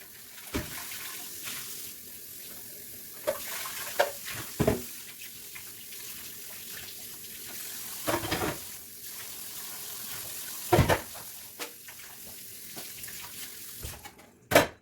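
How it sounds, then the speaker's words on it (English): A smoothie blender being rinsed and washed under running tap water, with a steady splashy flow broken by several sharp clunks and knocks of the jug against the sink, close by with no speech. "washing the smoothie blender."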